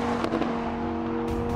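A Lamborghini Huracan's 5.2-litre V10 gives a dense, loud, sustained engine roar with a steady droning pitch, heard close.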